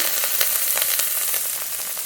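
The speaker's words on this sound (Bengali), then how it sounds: "এবার বাকি মশলাগুলো দিয়ে দেবো রসুন বাটা আদা বাটা জিরে বাটা ঝাল লঙ্কা গুঁড়ো" Garlic, ginger and cumin pastes with chili powder frying among onions and tomatoes in a hot pan, a loud, dense close sizzle with quick stirring scrapes, no talking.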